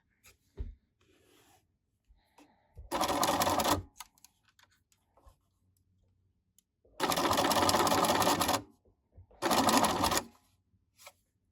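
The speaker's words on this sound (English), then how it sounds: "I'm going to sew right through the felt circle onto the twill tape." A sewing machine stitches through felt circles onto twill tape in three loud bursts of rapid whirring, with quiet pauses and small handling noises in between.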